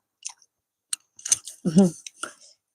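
Close, crisp chewing and biting on Thai food, a few sparse crunchy clicks and bites, with a voice briefly speaking between them.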